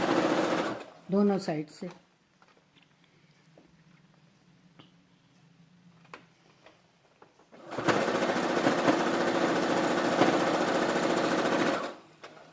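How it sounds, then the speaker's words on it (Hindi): Brief speech gives way to quiet handling, then a sewing machine runs steadily for about four seconds, topstitching the folded, doubled back bodice strip of a baby frock. "पीछे की चोली की पट्टी हम मोड़ेंगे डबल करके और ऊपर से सिलाई देंगे"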